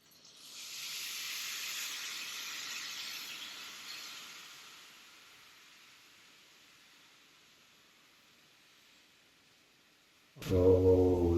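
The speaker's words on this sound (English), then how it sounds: "Syrup on, ready for the crackle." Syrup poured over hot baklava flavored with cinnamon, cloves and fresh orange juice sets off a steady, airy sizzling crackle that swells and then slowly fades, ending in a loud thump.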